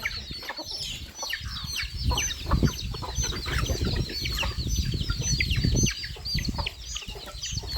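Chickens clucking close by in a farmyard, a flock giving repeated short clucks and chirps with occasional wing flaps.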